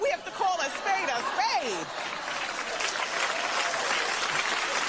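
Crowd applause at a Beyonce event, a broad steady wash of many hands clapping, with a voice talking over the opening before the clapping carries on alone.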